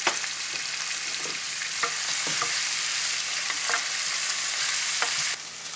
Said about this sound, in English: So as you see, the onions are getting brown.